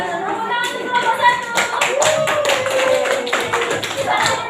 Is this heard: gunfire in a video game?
no